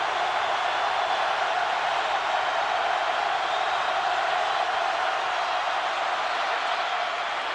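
A large football crowd roars continuously at Neyland Stadium during a Georgia versus Tennessee game, a steady, loud wash of noise with no distinct voices.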